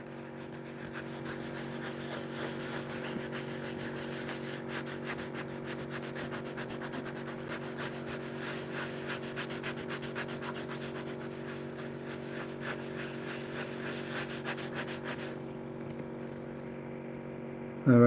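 Sandpaper works over a paint run to smooth it, a steady rhythmic rubbing sustained under a constant low motor-like hum, stopping abruptly near the end.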